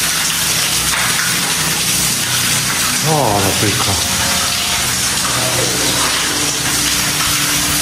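Water gushes through a crack in the old Izabela mine adit in Slovakia, a loud, steady, unbroken rush that fills the whole stretch while people speak briefly over it.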